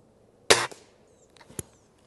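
A Gamo CFX air rifle fires a single pellet with a sharp, close crack, followed by a fainter second impact-like tap about a second later in an otherwise quiet setting.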